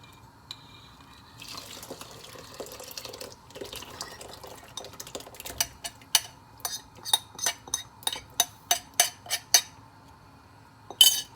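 A spoon scrapes and clinks against a pot while blended rice is stirred into hot milk for Lahori firni, soft swishing giving way to a steady run of sharp metallic taps near the end.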